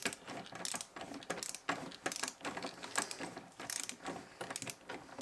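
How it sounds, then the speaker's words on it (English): A ratchet tightens a bolt on the A-post panel of a Lotus Elan M100, a close, rapid run of clicking strokes that stops and starts in short bursts. "As you can see, I can just start tightening it."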